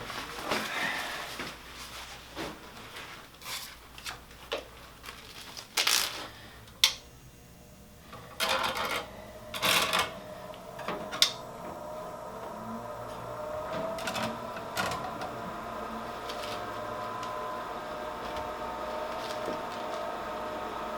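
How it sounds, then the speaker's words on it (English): A microscope in use for examining fossils gives off a faint, steady mechanical whir and hum with scattered clicks and rustles, heard close and alone. "I apologize for the background noise of my"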